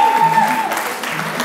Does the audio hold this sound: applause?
yes